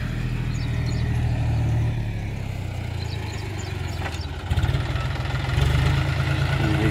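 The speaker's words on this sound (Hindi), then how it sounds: "ये बुल कंपनी का ओरिजिनल लोडर है, ये पंडित जी के गेट पर लगा हुआ।" Bull company loader tractor engine running steadily nearby, a low mid-range idle that rises slightly in intensity midway and stays loud throughout, with no talk.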